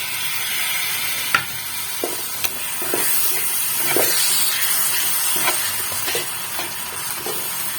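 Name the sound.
adding coriander paste to frying masala, stirring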